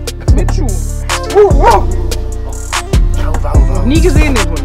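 A dog barks and yips loudly and close, in several sharp bursts spread irregularly with brief whining pitch sweeps between them and no talk over it.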